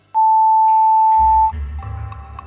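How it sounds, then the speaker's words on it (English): A single long, loud electronic beep from an answering machine in the Art of Murder video game, held steady for over a second before cutting off into low background rumble. "Please leave a message after the beep."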